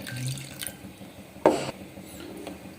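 Water is splashed into a bowl of boiled chicken and cornflour in a home kitchen, a brief close pour in the middle amid quiet clinks and handling noises.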